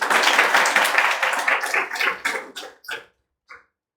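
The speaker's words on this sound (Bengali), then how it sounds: "আবার একটা জোরে হাততালি" A burst of applause from a crowd, dense at first, then thinning into scattered claps before fading out.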